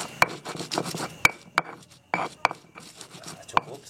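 Chili peppers being ground with a pestle against a stone mortar while cooking spicy coconut-milk snail curry: repeated rough scraping and rubbing strokes with a few sharp knocks, close and alone.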